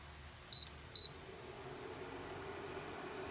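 An appliance just plugged into a 220-volt outlet gives two short, high electronic beeps about half a second apart, then only faint room hum remains.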